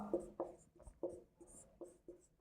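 Marker or chalk writing on a board in a math class, a series of short rhythmic scratching strokes close by, fairly quiet with small gaps between marks.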